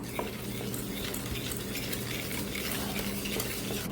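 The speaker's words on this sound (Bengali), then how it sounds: "দুধটা দিয়ে আবার একটু ফেটিয়ে নেব।" Eggless cake batter whisked after milk is poured in, a steady rapid scraping and tapping of a utensil against the bowl, close and continuous with a faint hiss underneath.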